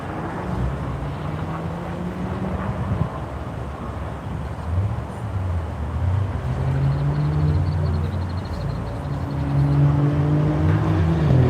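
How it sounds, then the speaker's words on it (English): A Hyundai race car passing on a track, a steady low engine drone with rising and falling tones as it accelerates, growing louder toward the end, mixed with wind noise. "Andy Hollis getting ready to whisk by in the Hyundai."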